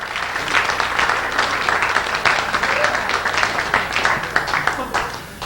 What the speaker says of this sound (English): Please keep it going for Gary Mizell, everybody